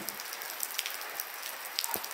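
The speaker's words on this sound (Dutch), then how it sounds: "we zijn terug van vakantie en het regent." Steady rain from the tail of a tropical storm patters on a surface, a dense hiss with scattered individual drops ticking close by.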